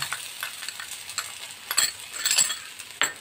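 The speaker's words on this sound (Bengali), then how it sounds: "এবার এগুলোকে সব একসাথে খুব ভালো করে আমি একটু নেড়ে নেব।" Chopped garlic and ginger stirred into already-fried onions in a pan, a spatula scraping and clinking in short bursts over a soft sizzle, close by.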